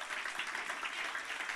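Congregation clapping in acclamation during a church service, a short, faint, even patter of many hands with no voices rising above it.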